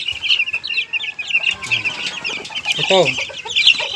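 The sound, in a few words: chickens clucking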